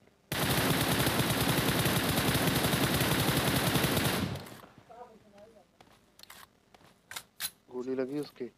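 Dense, loud automatic gunfire from the video game PUBG rattles nonstop for about four seconds, then cuts off into quiet with scattered clicks and brief voices talking.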